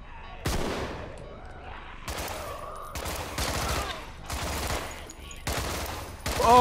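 Repeated bursts of gunfire in the zombie co-op game Contagion, several separate volleys of shots spaced a second or so apart, loud and close, with faint game ambience between them.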